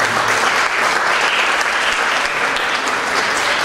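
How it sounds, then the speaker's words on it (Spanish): Audience clapping loudly at the closing ceremony of an international cooking workshop in Zacatecoluca, a dense, even round of applause from a crowd lasting a few seconds. "Así que para cada uno de ellos también va este fuerte aplauso."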